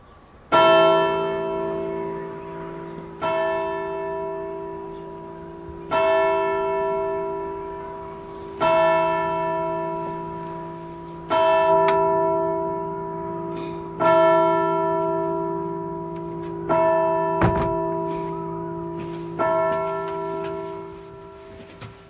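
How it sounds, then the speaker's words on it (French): Church carillon bells in a campanile ring out loud and clear, a series of struck tones roughly every few seconds, each swelling and decaying with long resonant overtones. "j'ai entendu ce carillon"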